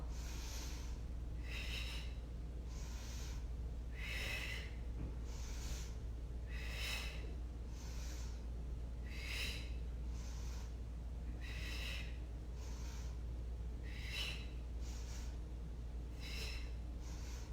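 Rhythmic, breathy exhales and inhales during Bikram hot yoga, about a dozen sharp nasal breaths repeating steadily every second or so, close and alone against a low hum.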